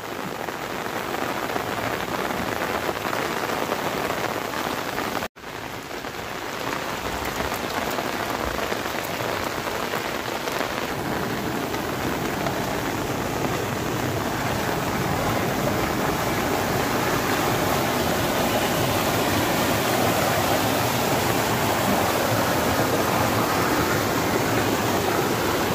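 Heavy monsoon rain pours down in a dense, unbroken roar of drops hitting surfaces, loud and close, with one split-second dropout early on before the downpour steadies and swells slightly louder.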